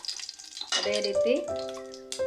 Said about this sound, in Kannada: ಎಣ್ಣೆಯಲ್ಲೇ ಒಂಚೂರು ಫ್ರೈ ಆಗಲಿ ಮಸಾಲೆ